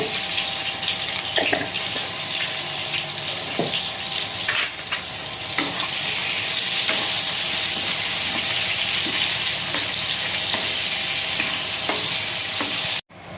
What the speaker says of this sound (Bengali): বেগুনটাও কিন্তু আমরা ভেজে নেব।